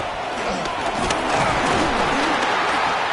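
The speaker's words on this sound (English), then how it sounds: "This crowd turning up the decibel level." A loud stadium crowd at an American football game roars steadily on third and long, a dense sustained wall of cheering and noise with some sharp bursts.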